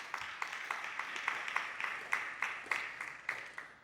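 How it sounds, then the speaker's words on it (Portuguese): Church congregation clapping for Jesus during a sermon: a faint, fairly regular series of claps, a few hands heard somewhat distant in a reverberant room. "Pode aplaudir a Jesus"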